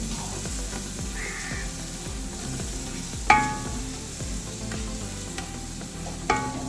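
Mutton biryani ingredients sauté in a pan with a continuous sizzle. Rhythmic stirring scrapes run throughout, and a couple of sharp metallic clinks stand out.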